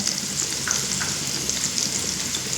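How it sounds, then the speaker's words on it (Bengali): Chopped onion with a little turmeric fries in oil over medium flame, giving a continuous bright sizzling hiss close by, with no voices. "পেঁয়াজটা দু থেকে তিন মিনিট মতো মিডিয়াম ফ্লেমে ভাজা করে নেব"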